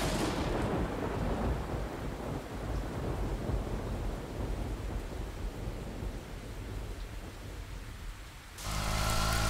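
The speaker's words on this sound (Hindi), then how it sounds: "अरे बाहर इतनी बारिश हो रही है" Heavy rain pours steadily outside, with a deep rumble of thunder running beneath the downpour as a constant wash of noise, then a louder burst near the end.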